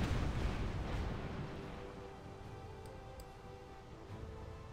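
Short cannons fire in the pirate action RPG Tempest: a loud opening boom rolls off into a long fading rumble, then faint distant thuds and ticks follow.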